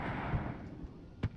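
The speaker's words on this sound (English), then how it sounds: "Getting absolutely pummeled by the artillery at close range" Artillery shells landing on armoured units in the wargame WARNO, two dull distant thumps in quick succession over a low rumbling battlefield background.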